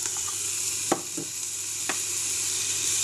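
Tomato and garlic stirred into vegetables sizzling in a pot for a seafood bisque, a steady frying hiss with a few soft knocks of the spoon against the pot.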